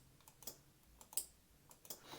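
Small 5-volt relays switched by a Raspberry Pi give a series of quiet, crisp clicks at irregular intervals, close up against near silence.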